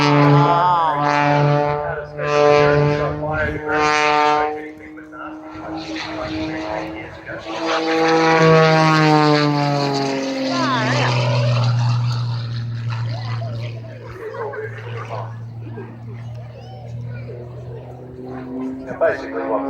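A propeller airplane flies at the Hunter Valley airshow, its steady droning engine note rising and shifting in pitch as it passes, loud and sustained while a commentator talks over it.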